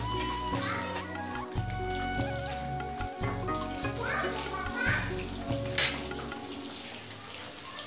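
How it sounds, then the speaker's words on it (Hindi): Food frying in a pan at home, a continuous crackling sizzle under someone talking, with a brief clatter near the end. "तो अभी मैं इसे फ्राई कर रही हूँ"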